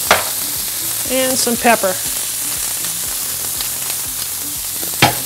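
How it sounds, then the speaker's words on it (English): A smash burger patty sizzles steadily on a hot griddle, a loud, constant crackling hiss with a few scraping clicks, while someone talks briefly over it. "we're gonna get a crispy edge on this burger as it cooks"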